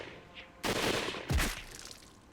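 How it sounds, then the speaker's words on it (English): Gunfire erupts from a line of Imperial riflemen in the game Hakuoki: two sharp, loud bursts about half a second apart, each a broadband crack with a rolling tail, over a faint background hum. "The air exploded with gunfire."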